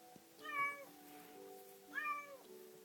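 A young kitten, one of a stray's litter, meows twice in a quiet indoor room, each call a short rising-falling cry, close and clear with a pause between.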